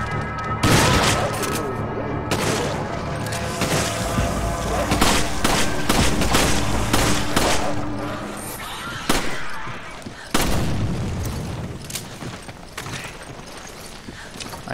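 Gunfire in Resident Evil 5, a dense stretch of repeated shots and bursts with clattering game sounds, loud and continuous, with sharp louder blasts near the middle and later on.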